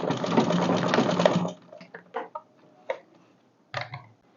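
A sewing machine stitches the inner elastic allowance of a reversible satin and ankara bonnet: a fast, continuous whir for about a second and a half, then scattered clicks and short mechanical ticks as the fabric is adjusted.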